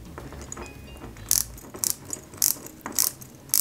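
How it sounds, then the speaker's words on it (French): Small screw driven into a part of a Peugeot 205 GTI 1.9 die-cast model kit, heard as five or six short ratcheting clicks from a screwdriver at a steady rhythm, close up and fairly quiet. "On met une vis BM qui va maintenir cette pièce"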